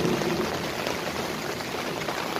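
Rain falling outdoors at a bushcraft fishing camp, a steady dense patter and hiss close by with no pauses and no voices.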